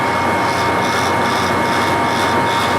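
A Shin Nong rice mill machine runs loud and steady with a constant mechanical roar and whine, set to the number 2 position while milling good-quality palay, with no pauses.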